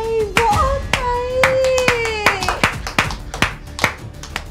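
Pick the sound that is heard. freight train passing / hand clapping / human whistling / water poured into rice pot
hand clapping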